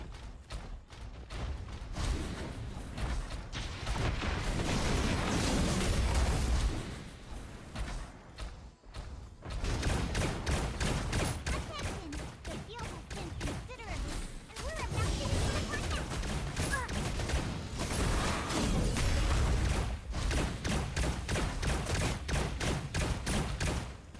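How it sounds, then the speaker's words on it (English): Rapid, dense bursts of pistol and nail gun fire in the mecha combat game Super Mecha Champions, loud and nearly continuous across the clip with a short lull partway through, heavy thuds and impacts mixed in. "My pistol has no accuracy, but neither does the nail gun, so it's a pretty even dispute."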